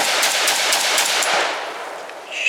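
An Izhmash Saiga AK-pattern rifle in 7.62 NATO (.308) fires a rapid string of sharp, loud shots at a shooting range, with the last shot fading away near the end.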